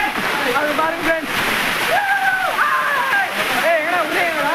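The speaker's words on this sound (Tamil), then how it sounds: "மேலேருந்து அழகாக தண்ணி வருது பாருங்க" At Jalagamparai near Tirupattur, a waterfall's constant rushing and splashing fills the scene, with a voice talking over it throughout.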